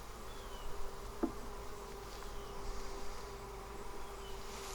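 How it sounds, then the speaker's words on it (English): Honey bees buzz faintly around an opened beehive box with burr comb along its side, a steady soft drone with a brief sharp tap partway through and no talking. "Look out, bee."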